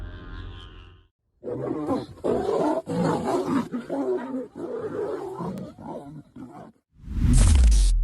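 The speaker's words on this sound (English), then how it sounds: "the mighty lioness does not let him run without clawing his face off" A lioness and a lion roar during an attack, a long loud stretch of ferocious roaring and snarling up close, preceded by a briefer growl and followed by a sharp burst of noise at the end.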